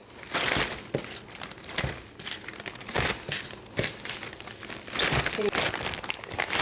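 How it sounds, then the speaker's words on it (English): A plastic Ziploc bag crinkles and rustles in close, loud bursts as breaded chicken pieces are packed into it in a kitchen, with brief pauses between handlings. "I'll put these all in a Ziploc bag, as so."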